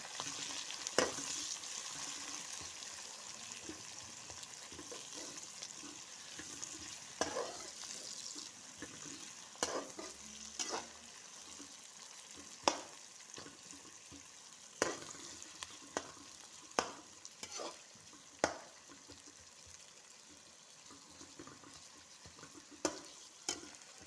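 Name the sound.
onions frying in a pan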